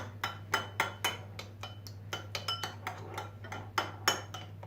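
A spoon mashes homemade yogurt starter in a bowl, with a series of irregular light clinks and scrapes against the bowl over a low steady hum and no talking.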